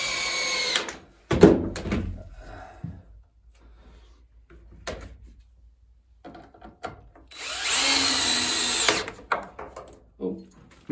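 A power drill bores holes in a narrowboat roof: short whirring bursts, then a longer loud run near the end, with clunks and quiet pauses between them.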